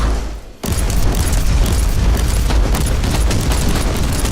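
A grenade blast in the game Warhammer 40,000: Inquisitor cuts in abruptly after a brief quiet moment, then gives way to a loud, dense roar of explosive rumble and crackling bursts that fills the rest of the clip.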